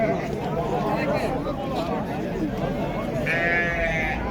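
Sheep bleat repeatedly and close by at a busy livestock market, with one drawn-out bleat near the end. Background chatter and crowd babble run underneath.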